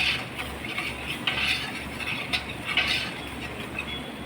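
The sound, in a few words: stirring onions and spice powders in a pan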